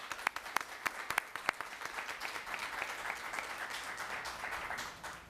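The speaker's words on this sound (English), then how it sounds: "And I want the audience to give a special round of applause for those folks here" An audience at a youth mental health event applauds, starting with a few sharp, distinct claps that quickly merge into a soft, continuous wash of clapping heard from a distance.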